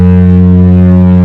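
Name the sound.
cruise ship foghorn sounding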